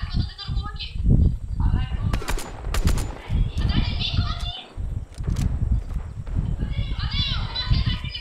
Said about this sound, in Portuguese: Tem gente atirando.